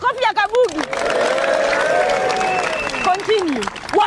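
A live audience at a comedy skit mimicking high school days claps and cheers for a performer called Kabugi. A loud burst of applause and crowd noise swells for about two seconds, with someone talking before and after it.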